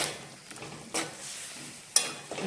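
Potato, tomato and onion curry frying in a pan, a faint continuous sizzle with a few scraping stir strokes and light clinks of a spoon against the pan.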